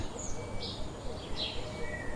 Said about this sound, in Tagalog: Magagandang iba't ibang huni po ng ibon.